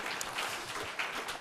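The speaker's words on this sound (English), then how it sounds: "Let us give them a big round of applause for your dedication and contribution." An audience at a news forum in Seoul claps in a brief burst of applause, a dense patter that sounds moderately distant.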